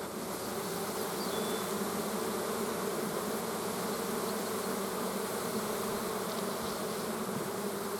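Honey bees buzz densely around an opened hive during honey harvesting, a continuous close swarm drone holding steady throughout with no voices.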